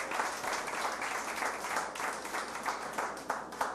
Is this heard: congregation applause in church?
yes